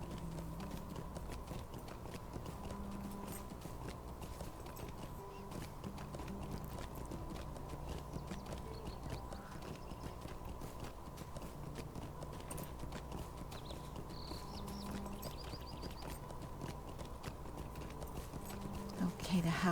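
Horse hooves clip-clop steadily in Lord of the Rings Online while riding a mount, an even rhythmic trot continuing throughout at moderate loudness.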